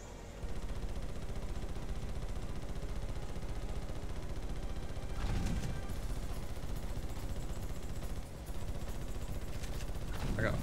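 Rapid gunfire from blasters in the Ratchet and Clank video game, a dense continuous barrage with a brief pause near the end, loud and steady.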